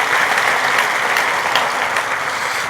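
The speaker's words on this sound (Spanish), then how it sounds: "Den un aplauso al Rey bendito" A church congregation applauds during a Sunday communion service, with dense, steady clapping from many hands that holds at an even, fairly loud level throughout, and no voices standing out.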